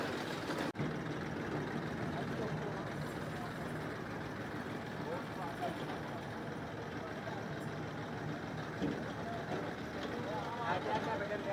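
Tractor engine running on the beach of Katchatheevu island: a steady, low diesel rumble continues throughout at moderate distance, with people talking over it.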